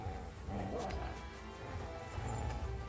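Dog barking steadily in the medieval video game Kingdom Come Deliverance 2, continuous yips and bow-wows over a busy game soundscape.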